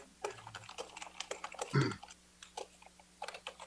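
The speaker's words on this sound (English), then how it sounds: "Whoever's typing furiously" Furious typing on a computer keyboard during a city council meeting, a rapid, uneven patter of key clicks heard close, with a louder thump partway through and a faint low hum underneath; no one speaks.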